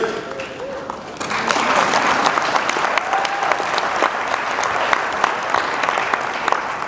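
Audience applause breaks out at an immigration policy speech after a line about taxes paid by immigrants, a dense, steady wash of many hands clapping that swells abruptly and holds loud throughout.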